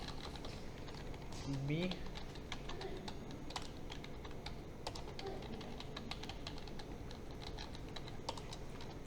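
Fast typing on a computer keyboard during an online class on arrays and loops. The key clicks are close and rapid and run the whole length, with a short burst of speech near the start.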